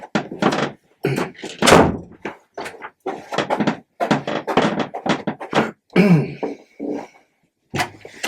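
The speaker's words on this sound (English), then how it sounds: "shut the door." A door being shut indoors, with a cluster of thuds, knocks and clattering bumps spread across several seconds, close and fairly loud, with short silent gaps between bursts.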